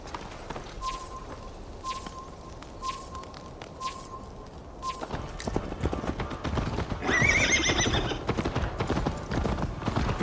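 In Assassin's Creed Valhalla, a horse's hooves clip-clop steadily, then speed into a louder gallop with a neigh. A repeated chime and bird calls sound in the background.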